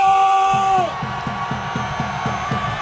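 A crowd at an outdoor political rally in a Dongdaegu Station square in Korea, opposing a presidential impeachment, shouts in rhythmic bursts, a repeated cheer rising about every third of a second over a sustained tonal drone that fades early on.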